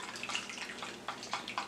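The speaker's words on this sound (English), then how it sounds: "Sound of the slime." Watery glitter slime squelches and drips as it is handled, giving soft wet crackles and splats that come in bursts near the mic. No speech is heard.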